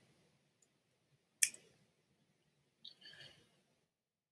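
A single crisp computer mouse click, sharp and close, in an otherwise quiet room, followed by faint soft rustling.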